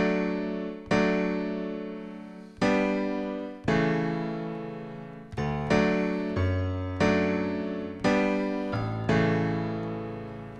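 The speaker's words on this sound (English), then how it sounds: "I'm going to stick with the grand piano for now." GarageBand grand piano chords are struck one at a time and left to ring and decay, a slow sequence of rich, sustained notes with no talking.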